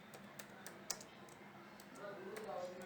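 Someone types a search on a computer keyboard. The clicks are faint and scattered, with a low voice quietly in the background.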